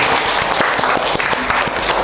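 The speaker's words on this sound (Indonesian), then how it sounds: "Tepuk tangan." Sustained applause from a class of students during a teaching practice lesson in an Indonesian classroom, steady clapping that fills the room for about two seconds.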